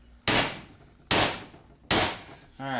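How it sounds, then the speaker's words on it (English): A really big hammer strikes a shotgun pivot pin three times, each blow loud, sharp and metallic with a ringing decay, evenly spaced about a second apart, with a brief voice starting at the end. "Got the really big damn hammer, and usually we only have to put a couple of hits on this thing."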